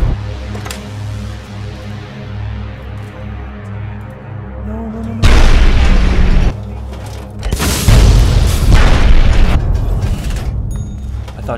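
Fat Man mini-nuke explosions in the video game Fallout 3: two massive, loud booms, the first a sudden roaring blast and the second a longer rumbling detonation a couple of seconds later, over a quieter game-ambience bed.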